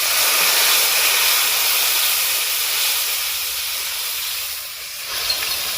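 Water hits a hot pan of spices for a raw banana kofta curry, giving a loud, close, continuous hiss of steam that fades slightly toward the end.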